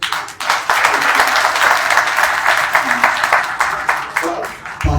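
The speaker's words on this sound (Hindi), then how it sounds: "क्या ये बात डिजर्व नहीं करती कि तालियां बजाई जाए?" An audience at a New Year celebration breaks into loud, sustained applause that swells and then tapers off after a few seconds, with voices mixed in under the clapping.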